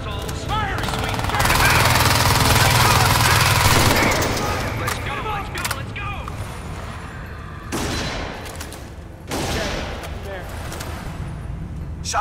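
Loud sustained automatic gunfire and bursts of shots ring out during a first-person shooter game set in a facility, dense and close at first and then in shorter volleys, with shouting voices over it.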